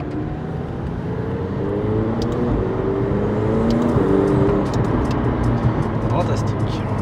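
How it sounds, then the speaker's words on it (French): McLaren 720S Track Pack heard from inside the cabin while rolling slowly at about 30 km/h, a steady low engine drone with a gentle rise in pitch, continuous throughout. "sensation à bord d'une McLaren à 30 km/h absolument incroyable"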